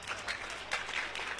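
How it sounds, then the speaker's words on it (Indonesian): An audience claps for a second-place winner at a school competition award ceremony, a short stretch of dense, even applause, fairly soft and somewhat distant. "boleh minta tepuk tangan untuk juara kedua kita"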